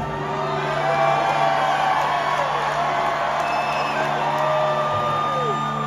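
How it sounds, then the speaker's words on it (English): A concert crowd cheers during a rock show in Houston: a dense, sustained roar of many voices that holds loud and even throughout, with no break into silence. "Are you guys cheering the 90s right now?"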